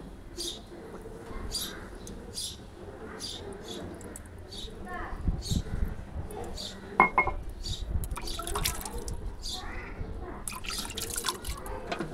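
Water is poured over dusty plant leaves, dripping and splashing in scattered bursts that grow busier toward the end, with faint birdsong in the background.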